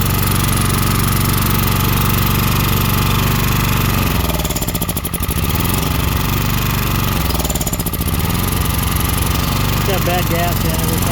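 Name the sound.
Honda EX1000 generator engine running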